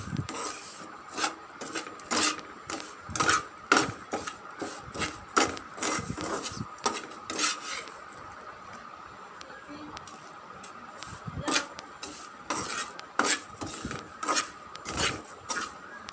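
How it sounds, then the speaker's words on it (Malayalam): Ginger curry being stirred in a pan on a home stove, a steady run of scraping, rasping strokes at close range, with a pause midway before the stirring resumes. "അപ്പോൾ നല്ലപോലെ ഞാൻ ഇളക്കി കൊടുക്കുന്നുണ്ട്."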